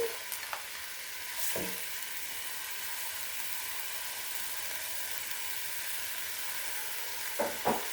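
Carrots, celery and onion sizzle steadily in a pan for split pea soup, a continuous hiss with a few soft clinks and stirring knocks near the start and end.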